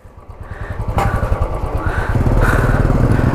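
A motorcycle engine revs and pulls away after a roadside mechanic's repair, loud and close with a steady rumbling drone that builds over a few seconds.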